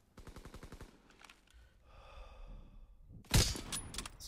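Gunfire in Call of Duty WW2 with a Lee Enfield rifle: a rapid burst of sharp shots opens, a quieter stretch follows, then one loud close blast near the end.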